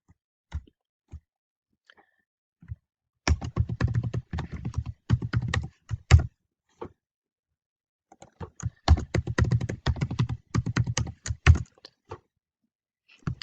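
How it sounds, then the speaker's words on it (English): Password being typed on a computer keyboard during an OpenCart install on a Windows VPS: two bursts of quick, close clicking keystrokes separated by a quiet pause, with a few isolated taps around them. "just make sure you're typing a strong password"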